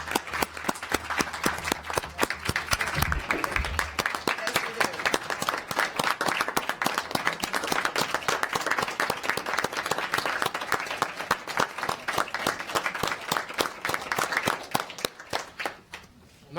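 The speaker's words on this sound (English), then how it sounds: "you do deserve a round of applause for everything that you've done" A room at a city council session breaks into sustained, dense applause for someone being honoured, many hands clapping steadily and fairly close for about fifteen seconds before tapering off.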